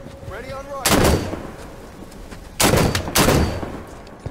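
DMR rifle fire in Halo 5 arena capture-the-flag play, heard as several loud, sharp shots in two close groups, the later pair spaced about half a second apart, over faint game ambience.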